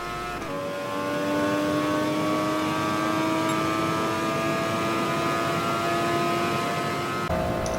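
A race car in Gran Turismo Sport holds a steady engine drone down a long straight, its pitch climbing slowly through the gear, loud and continuous, with a brief shift near the end.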